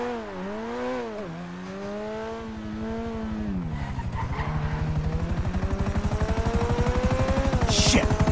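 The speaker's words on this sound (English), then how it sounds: "Chopper!" A helicopter in Grand Theft Auto 5 drones with a rising, pulsing rotor chop that grows louder and steadier over several seconds, with engine tones sliding in pitch and a brief high screech near the end.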